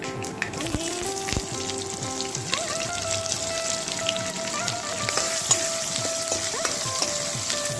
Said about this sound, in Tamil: வெங்காயம் நல்லா வதங்கியாச்சு